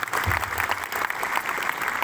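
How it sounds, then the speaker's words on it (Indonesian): A school audience claps together in a dense, steady burst of applause during an official's visit to a high school, close and even throughout with no speech. "Beri tepuk tangan untuk Dani"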